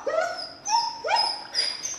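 A puppy whimpers in three high, drawn-out whining cries, close and fairly loud, with short pauses between them.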